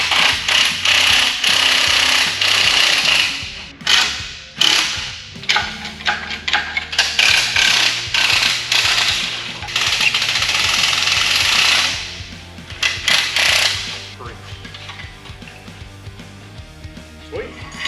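Bolts on a 7.3L Godzilla engine are loosened during a Fox Body swap, with rapid bursts of a rattling impact tool and metallic clicks close by, broken by short pauses and a steady mechanical hum.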